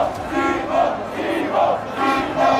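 A football stadium crowd of ultras chants in unison in the stands, with loud, rhythmic swells of massed voices repeating about every three-quarters of a second throughout.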